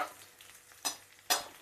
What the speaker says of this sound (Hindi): अब इस प्याज को हम हल्का सा फ्राई कर लेंगे